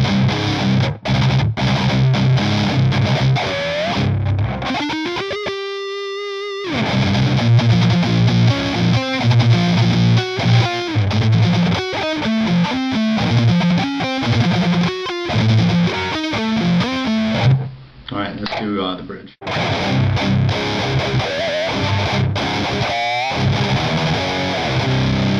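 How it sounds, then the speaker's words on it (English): ESP LTD JH600 electric guitar on the neck pickup with a heavier distorted tone, loud riffing with chugging chords, a short sustained harmonic-rich note and brief pauses between phrases, played alone. "here's a little heavier sound on the neck pickup"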